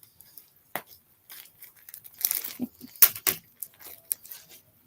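Package being opened by hand, with close crinkling, tearing and rustling of packaging in uneven bursts, one sharp rip standing out midway, and no speech.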